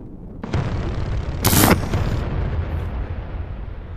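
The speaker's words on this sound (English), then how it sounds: "that's a big explosion" A big booming explosion bursts out over constant game action noise in VRChat, followed by a rumbling tail.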